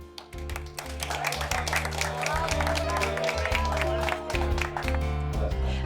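Applause breaks out for the winner of a cooking competition aboard a luxury cruise ship, moderate clapping from a small audience running steadily under background music.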